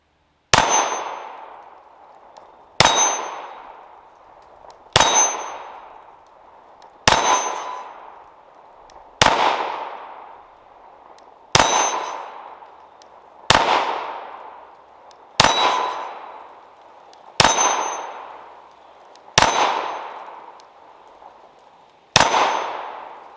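Rounds from a budget handgun under $400 ring off a steel target, about eleven sharp metallic clangs spaced roughly two seconds apart, each with a bright ringing tail that fades before the next shot.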